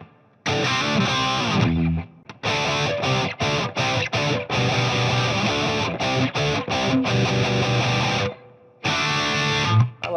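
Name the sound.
Epiphone Les Paul electric guitar, tube screamer, Marshall amp, reverb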